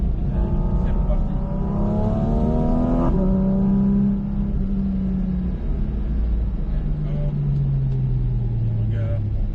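A Porsche Cayman 718 GT4 RS on a race circuit accelerates with a rising engine whine that shifts pitch and then settles into a steady drone, while a person talks over it.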